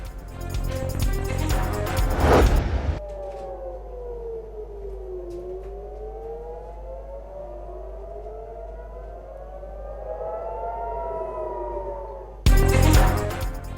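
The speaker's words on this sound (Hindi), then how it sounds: "मिसाइल हमलों पर इसराइली दारुल हुकूमत में सायरन बज उठे।" Air raid sirens wail across Tel Aviv during a missile attack. A long rising and falling siren tone with overlapping pitches sweeps steadily and loudly for about ten seconds, framed by bursts of louder noise at the start and end.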